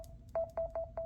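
Four short beeps from a Samsung Galaxy Z Flip 5 as its volume button is pressed, each a clean electronic tone in an even rhythm, close and clear over a quiet background.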